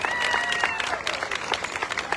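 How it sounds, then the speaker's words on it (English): Steady applause from the audience for an honoree at an apple festival's Red Coat Club presentation, a dense even patter of many hands that continues without a break. "Give Joe a big round of applause."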